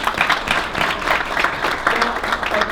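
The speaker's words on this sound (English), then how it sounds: "So give yourselves a round of applause." Audience applause fills a room at a family business awards event in Glen Ridge, a dense, steady wash of clapping hands that continues throughout at a fairly close, moderate level.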